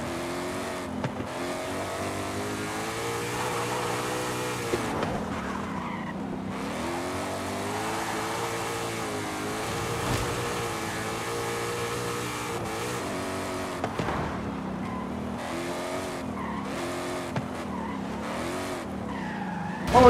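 Cars race and skid in Forza Horizon 5, played on a Logitech G29 wheel with shifter and handbrake: a steady engine drone with rising and falling revs runs throughout, broken by repeated tire-squealing slides and a sharp bump at the end.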